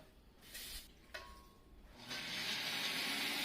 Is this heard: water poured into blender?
yes